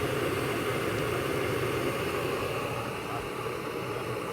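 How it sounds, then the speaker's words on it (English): A new Jetboil camping stove burns on a summer trip in the New Hampshire mountains, giving a steady, close roaring hiss that holds constant throughout with no talking. "Dan's got the new jet boil going."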